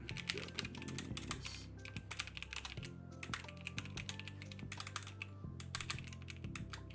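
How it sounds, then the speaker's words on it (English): Close, quiet keyboard typing, a quick irregular run of key clicks with brief pauses, over a faint steady background hum. "Typing."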